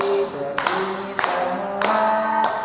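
Children in a second-grade primary class do a finger-clapping routine, with a few sharp taps spaced about half a second apart beneath a chanting voice.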